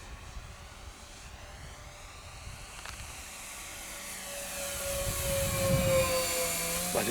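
Twin electric motors of a 1280mm EPP foam RC plane whine steadily at a moderate distance, a faint high tone rising and getting louder toward the end, with no talking over it.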